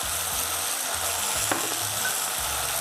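Asafoetida, salt, pepper powder, chilli powder and tomato sauce fry in a pan for chilli rava idli, a dense continuous sizzle with soft low scraping stirs repeating every second or so, close and steady, no speech.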